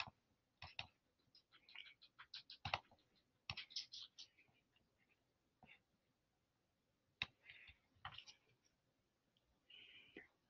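Computer keyboard keys clicked in quick, irregular bursts, with short pauses between clusters of keystrokes, fairly close and moderately quiet, as someone types a word to look up its definition.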